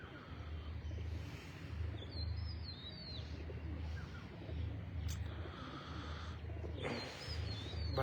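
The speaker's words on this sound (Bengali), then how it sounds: "আবির ভাইয়ের শেষ দিনের কবুতর ছুটছে" Racing pigeons in a Bangladeshi pigeon race, with low rhythmic cooing close by, occasional chirps and a brief flutter of wings over a constant outdoor hiss, no speech.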